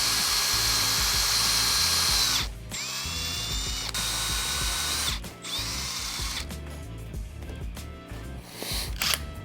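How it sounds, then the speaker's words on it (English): A power drill whines loudly, grinding through material in several long bursts with short pauses between, plus a few mechanical clicks, during a Taco 22 roller kit build. "So I like to keep the drill kind of tight to my body"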